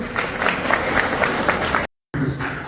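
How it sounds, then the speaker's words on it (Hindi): Dense crowd applause fills an auditorium during a youth program in Hisar, steady and loud, cut by a brief silent gap before the clapping resumes. "जोरदार तालियां बजाओ ना"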